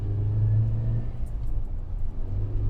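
Steady low engine rumble from a 1997 Toyota Land Cruiser Prado 95 series in third gear, accelerating uphill on the road, heard from inside the cabin, with no talk.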